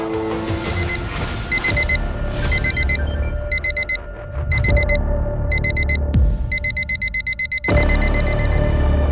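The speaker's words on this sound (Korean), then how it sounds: "1500ppm 이상이니 환기를 시키라는 경고음이었습니다." Rapid electronic beeping from a carbon dioxide meter warning of high CO2 levels repeats in bursts over a loud, steady low rumble, the beeps growing more continuous and insistent toward the end.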